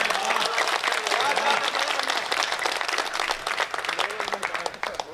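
Audience applause at a Hindi poetry recitation, dense clapping spread through a crowd for the whole stretch, steady and fairly loud, with a voice carrying over it.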